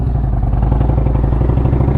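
A motorcycle fitted with TAB Performance B.A.M. Sticks exhaust and Zombie Baffles idles loud and close, a deep rapid lumpy pulsing with a clattering edge, steady throughout.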